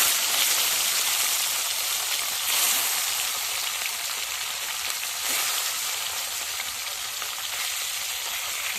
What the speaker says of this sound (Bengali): তো বন্ধুরা, মাছ ভাজা শুরু হয়ে গেছে।